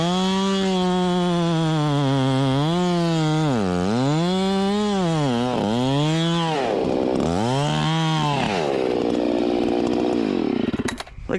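A chainsaw cuts a kerf in a redwood tree, the engine loud and close throughout, revving up and down in repeated swells as the cut is worked open, then dropping away at the end.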